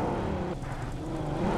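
A vehicle drives across a bridge in PUBG Mobile, its engine a faint, steady low drone humming along without clear changes in pitch.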